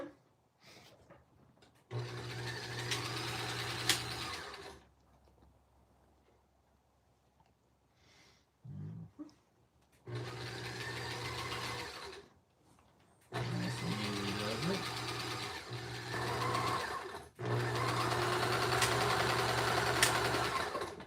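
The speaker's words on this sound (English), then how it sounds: "Now I'm going to do a little more machine stitching here." A sewing machine stitches fabric for a hand-made puppet, running in three long bursts of steady motor hum and rapid needle chatter, separated by quiet pauses with brief handling noises.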